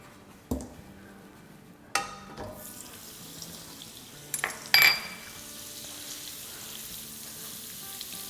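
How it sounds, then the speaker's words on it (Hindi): Oil and butter go into a hot wok, with a few distinct splashes and sharp sizzling bursts, the loudest near the end, over a quiet kitchen background. "सबसे पहले हम डालेंगे इस वॉक में 2 टेबलस्पून तेल और 3 टेबलस्पून बटर"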